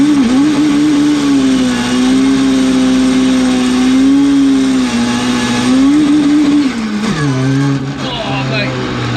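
An 800 BHP Mk2 Ford Escort with a Honda S2000 engine and sequential gearbox screams under hard acceleration, its pitch climbing and wavering before a sharp drop at an abrupt gear shift, loud and close, with voices underneath.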